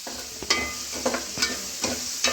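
Beef coconut fry being stirred in a pan, with the spatula scraping the pan bottom in about five steady strokes over a low background sizzle, close and moderately loud with no voices.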